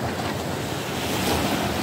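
Rough, choppy sea waves surge continuously along a muddy coastline, a loud, dense wash of surf with wind buffeting the microphone throughout.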